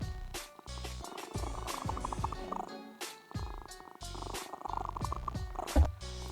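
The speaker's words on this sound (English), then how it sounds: "There's some ASMR cat action for you." Newton the cat purring up close, a soft continuous rumble that pulses in steady breaths, with brief rattling and rustling knocks breaking in throughout.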